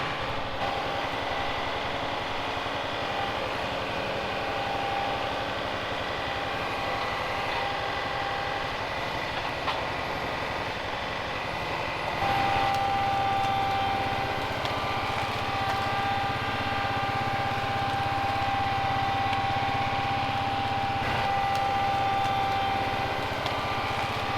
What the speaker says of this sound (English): I have to keep the engine RPM at least 1800 and don't shut the tractor off until it's done